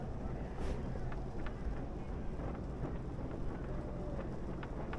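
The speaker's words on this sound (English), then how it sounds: "there's definitely some wind there" Steady wind roars across the microphone aboard a sailboat under way, a constant broadband rush with faint creaks and water sounds underneath, no voices.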